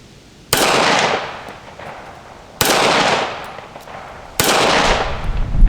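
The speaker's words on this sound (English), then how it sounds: "let's go over here and see if I can hit this red plate at 80 yards" Three loud CZ 75 B pistol shots fired outdoors at a steel plate 80 yards away, each a sharp crack with a long rolling echo, spaced about two seconds apart with no talking.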